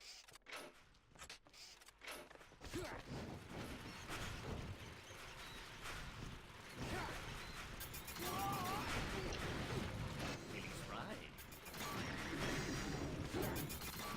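The mouse wheel trap in The Mighty Quest for Epic Loot grinds and clatters with mechanical rattles, creaks and crashing hits that run on for several seconds, mixed with game sounds and a faint, sparse voice.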